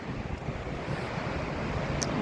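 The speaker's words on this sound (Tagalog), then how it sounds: "Maganda yung agos ng tubig dito." Steady rushing water of a river current in Quebec, Canada, a broad continuous wash with some wind noise on the microphone, fairly close and even throughout, with no talking.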